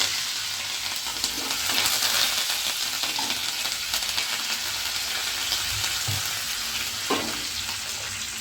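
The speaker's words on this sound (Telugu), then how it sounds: "ఎండుమిర్చి వేగిన తర్వాత కరివేపాకు వేసుకోవాలి" Curry leaves and dried red chillies sizzle in hot oil for a cabbage coconut fry, giving a steady, close crackling hiss with a few brief stirring scrapes and no talk.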